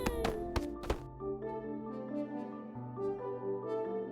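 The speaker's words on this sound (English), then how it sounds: "There's the thumping." Three heavy thumps land in quick succession, close and loud, then a sustained ringing tonal hum carries on afterward.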